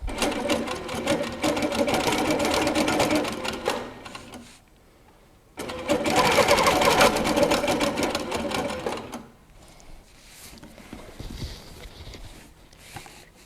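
A Handi Quilter Capri stationary longarm quilting machine stitches in two loud, steady runs with a brief pause between, then a quieter stretch of lighter mechanical noise.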